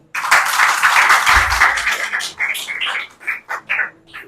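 An audience at an institute branch opening ceremony in Lahore claps for competition students, a dense burst of applause that thins into a few scattered, fading claps.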